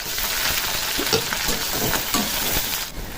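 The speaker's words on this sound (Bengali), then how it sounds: "দিয়ে দেবো পেঁয়াজগুলো দিয়ে দিলাম কেটে রাখা।" Onions sizzle and crackle loudly in hot oil with cloves and cardamom, a dense steady frying hiss with soft stirring scrapes throughout.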